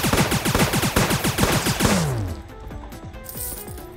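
Rapid bursts of gunfire in the Starbound video game, a dense run of sharp shots over the first two seconds, then scattered fainter pops and game effects fading out.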